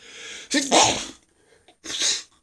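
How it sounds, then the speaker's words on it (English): A loud, explosive sneeze up close, preceded by a sharp inhale, followed by a second burst after a short pause. "Wow, that was a fucking big sneeze."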